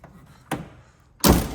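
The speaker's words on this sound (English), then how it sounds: "Perfect click shut doors." Two solid car door thunks from a 1974 Triumph TR6 convertible, a lighter one followed by a louder, fuller shut, separated by a short quiet pause.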